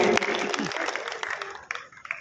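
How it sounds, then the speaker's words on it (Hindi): An audience at a kavi sammelan in Musafirkhana applauds a child poet's recitation. The scattered, moderately faint clapping trails off, and a voice speaks briefly at the start. "एक बार जोरदार तालियों से इसका अभिनंदन कीजिए, उत्साह बढ़ाइए"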